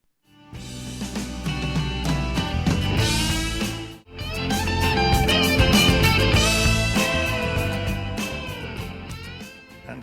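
A 2005 band recording of a guitar solo plays as full rock music, with electric guitar lines over drums and bass, dense and steady, with a short break near four seconds.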